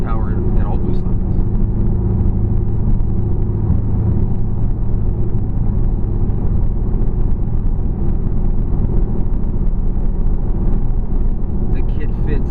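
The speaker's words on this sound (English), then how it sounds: "This has a full Bassani 3-inch exhaust system front to back with Bassani straight through race mufflers" Turbocharged Ford Coyote V8 fitted with a full Bassani 3-inch exhaust and straight-through race mufflers, giving a loud, steady deep rumble that holds without a break for the whole stretch.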